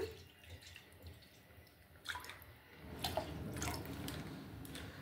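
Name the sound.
water being poured into a pot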